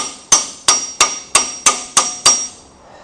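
Seven evenly spaced hammer taps ring out close up as a wedge is driven tight on a tractor implement, each strike leaving a short metallic ring, with no talk.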